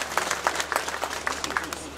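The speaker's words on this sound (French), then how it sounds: "Applaudissez plus fort." Audience applause at an airport inauguration ceremony in the Comoros, marking the opening of a technical block, control tower and staff housing. Steady mid-distance clapping from a crowd runs throughout with uneven individual claps.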